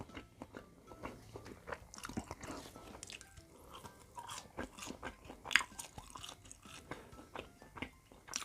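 Someone bites and chews deep-fried ketchup at close range, with repeated crisp crunches and wet mastication noises spread in an irregular rhythm across the clip, with no talking.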